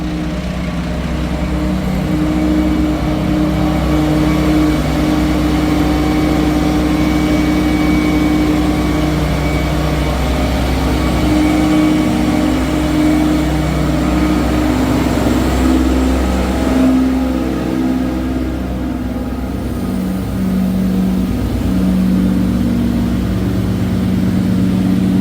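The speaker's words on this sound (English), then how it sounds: "Let's take a look at the vacuum trucks in action, guys." Vacuum trucks run with engines revving, a steady loud low rumble that holds for the whole stretch with slight swells in intensity, close by and with no voices.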